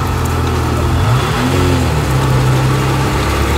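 An off-road jeep engine, overheating and boiling, runs loudly and steadily, rising briefly into a rev before settling back to a heavy idle, close by.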